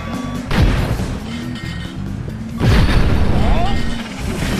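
Weapon blasts during a Cars 2 video game battle race, two heavy booming explosions over constant racing engine roar, with a game announcer voice speaking between them.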